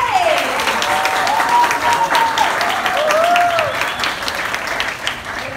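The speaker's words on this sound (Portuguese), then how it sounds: "eu queria pedir uma salva de palmas para os Intrínsecos e para a C.J." An audience claps steadily in applause for the Intrínsecos and guest author C.J. Tudor at a Happy Hour event, a dense, sustained patter with a few cheering voices rising over it.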